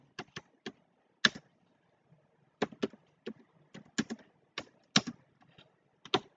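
Keys clack on a computer keyboard while C# code is typed, in irregular short bursts and single taps with quiet pauses between them, close and crisp, with no talking.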